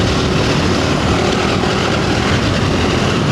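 A KTM 390 Enduro R motorcycle engine is ridden at about 40 mph in fourth gear, a loud, continuous broadband drone mixed with wind rush throughout.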